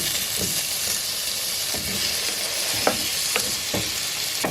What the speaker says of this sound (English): Add the cut up onion and tomatoes to a pan with heated oil.